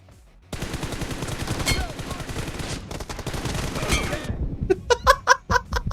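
Rapid bursts of gunfire from an online shooter video game, a dense rattling volley followed by sharper separate shots near the end, loud and close with no talk over it.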